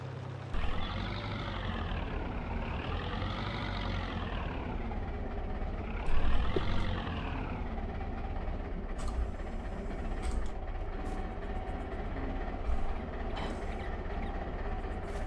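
A tractor engine in Farming Simulator 22 drones steadily at close range, its pitch rising and falling in slow sweeps as it revs and eases while driving, with a few brief louder clunks along the way.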